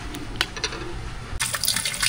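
Soaked, softened soy meat rinsed under running tap water in a kitchen, a steady splashing stream that swells and grows brighter partway through, with no talking.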